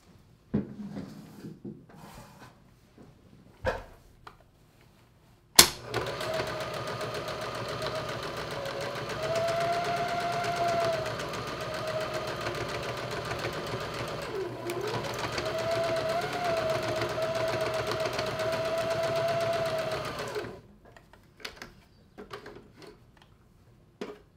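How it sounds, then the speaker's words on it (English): A sewing machine stitching a collage of leftover scrap fabrics runs in a long steady whirring drone for about fifteen seconds, with a short pause midway, preceded by scattered handling knocks and clicks. "I'll show you a lot of the sewing process."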